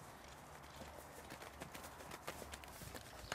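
A horse trots in a riding exercise, its hooves clip-clopping in a steady rhythm, faint and somewhat distant against a low background.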